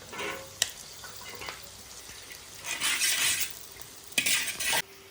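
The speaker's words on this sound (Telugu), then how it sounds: "ఇప్పుడు కట్ చేసుకున్న ఆనియన్ వేసుకుందాం." Chopped onion tipped into a pan for burnt chicken fried rice and stirred, utensil scrapes and clinks over a low sizzle, with two louder bursts of frying hiss midway and near the end.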